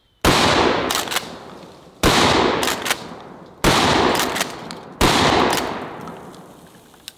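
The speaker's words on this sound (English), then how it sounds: "is the Winchester 1897 slam fire trench gun, and this is a very common home defense, self-defense caliber, the 12 gauge" Four heavy blasts from a Winchester 1897 12 gauge trench gun fired into a house wall, each a sharp loud crack with a long decaying roar, spaced about one and a half seconds apart.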